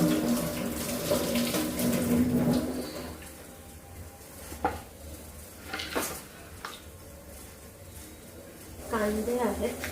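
Kitchen tap water runs steadily into a sink while mushrooms are washed, a close splashing stream that swells at the start and end, with faint bird sounds in the background.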